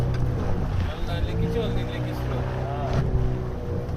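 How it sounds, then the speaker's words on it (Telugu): Motorboat engine drones steadily on the water off Goa near a parasailing operation, a continuous close hum with wind buffeting the microphone and people talking over it. "అదే మన పారాసీలింగ్ బోటు"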